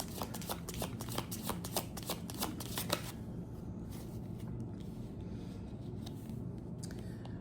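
Tarot cards shuffled by hand in rapid, crisp riffling bursts for about three seconds, then the shuffling stops and only a low, steady background hum remains.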